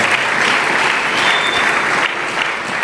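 A church congregation bursts into sustained applause at a sermon, a dense, steady wash of many hands clapping together that holds at full volume throughout, with no talk above it.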